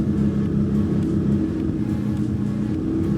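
A 1981 Honda CBX1000 café racer engine running loud and steady, a deep, continuous droning rumble with no pauses.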